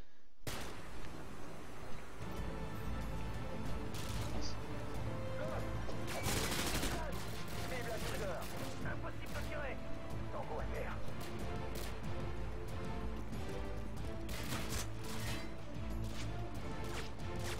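Gunfire rings out in Call of Duty Modern Warfare 2, bursts of shots and blasts scattered across a busy battle soundscape, fairly quiet, with people talking over it.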